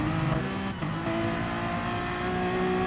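Engines of race cars in a racing video game at Fuji Speedway drone steadily as the cars slipstream one another down the straight, a loud sustained high whine with a brief dip in pitch early on.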